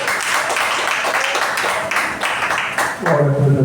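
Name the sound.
congregation clapping hands in church service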